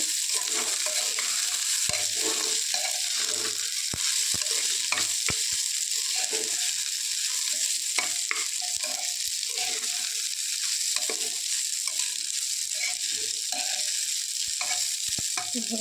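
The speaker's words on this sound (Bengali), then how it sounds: "এখন এটাকে ভালো করে হচ্ছে একটু ভাজা ভাজা করে নেবো আর কি, সুন্দর করে মিক্সিং করে নেব।" Rice frying in a pan, a loud, continuous hiss of sizzling oil punctuated by frequent scrapes and taps as it is stirred and mixed, close-up with no speech.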